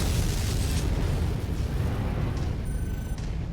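A missile strikes a mech in MechWarrior 5, giving a loud, sustained rumbling blast that stays heavy and noisy throughout, with no voices.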